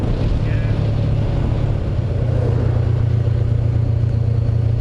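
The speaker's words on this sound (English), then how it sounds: "that wind is savage" Steady, loud wind roar buffeting a rider on a Honda CB500X adventure motorcycle, a broad constant rush over a low engine drone with no pauses, close and continuous throughout.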